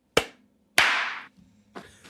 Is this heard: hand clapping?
yes